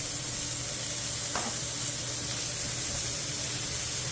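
Beef burger patties sizzle loudly on a flat top griddle, a steady close frying hiss that runs throughout, with a brief scrape partway in.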